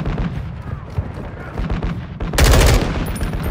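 Loud machine gun fire rattles in Call of Duty Modern Warfare 2 gameplay, with rapid shots beneath battlefield noise and a hard, dense burst near the end.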